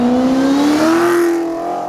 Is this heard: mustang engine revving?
yes